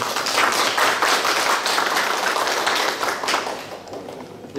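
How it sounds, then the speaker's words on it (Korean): Dense, sustained applause from a seated audience welcomes guests at a printing industry forum in Daejeon, loud and continuous before tapering off at the end. "큰 박수로 환영 부탁드리겠습니다"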